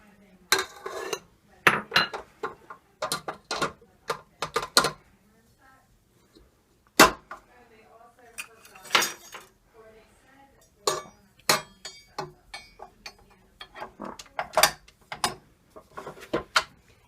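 Egg yolks for an Italian cream cake are beaten in a bowl, giving sharp irregular clinks and scrapes of utensil against dish in quick clustered bursts, close and fairly loud, with people talking between them.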